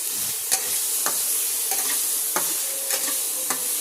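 Vegetables cook lightly with salt in an appe pan: a soft continuous sizzle with a handful of quick stirring clicks and scrapes, close and moderately loud, no voices.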